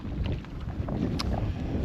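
Wind gusts across a cold hiking trail in Wales, a steady low rumble buffeting the microphone close up, with no voices.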